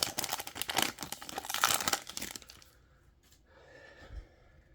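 A foil pack of Topps Signature Series trading cards is torn open with loud crinkling and crumpling for nearly three seconds, then the sound drops to faint rustling as the cards come out.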